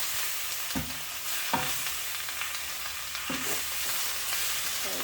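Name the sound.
frying vegetable and prawn stir fry in pan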